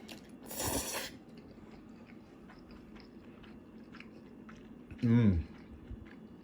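Buldak 2X spicy chicken ramen noodles being eaten up close, a wet slurp early on, then quiet chewing and another short slurp near the end.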